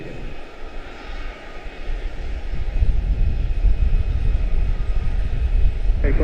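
An American Airlines jet departing Charlotte-Douglas International, a steady low engine roar that builds and holds throughout, with no talk over it.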